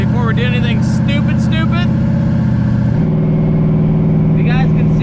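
A Foxbody fitted with a 5.3L LS engine idles and revs loudly and steadily close by as its tires warm up, the engine note shifting pitch around the midpoint, with faint voices underneath.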